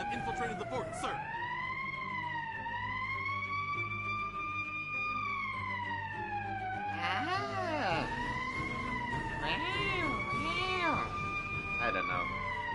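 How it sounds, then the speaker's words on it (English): A wavering, rising-and-falling alarm siren in the video game Valkyria Chronicles 4 wails continuously with a slightly cartoonish tone, while bouncy chirping effects and voices come and go over it. "all the sirens in this game sound fairly goofy"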